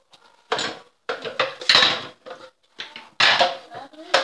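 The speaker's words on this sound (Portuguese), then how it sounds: "eu não sei o que é lavar a louça se não limpar a pia" Dishes, pots and cutlery clatter at a home kitchen sink during washing up, in irregular bursts of clinking and knocking with short quiet gaps, close by and fairly loud.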